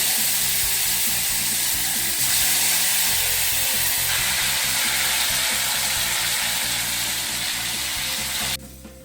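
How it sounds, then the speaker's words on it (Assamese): Vegetable balls deep-frying in hot oil give a loud, steady, close sizzle and hiss that runs unbroken for the whole stretch, with no voices. "এতিয়া আমি তেলত এনেকৈ ভাজি ল'ম।"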